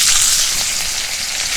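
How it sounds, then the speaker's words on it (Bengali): Chopped onion sizzles and fries loudly and steadily in hot oil in a pan, a dense continuous crackle with no voices. "পেঁয়াজ আর টমেটো কুচি একসাথে দিয়ে দেবো।"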